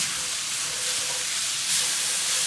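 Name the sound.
plant-based burger mixture cooking in pan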